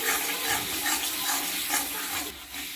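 Chili powder and meat masala spices fry and get stirred in a hot pan, a steady close hiss and sizzle with soft scraping pulses, no voices.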